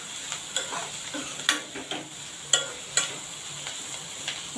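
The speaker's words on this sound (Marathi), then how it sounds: "कांदा आपण चांगला परतून घेतलेला आहे" Onion is sautéed gently in a pan until soft, a soft steady sizzle punctuated by repeated sharp clicks and scrapes of a spatula stirring against the pan, with no talking.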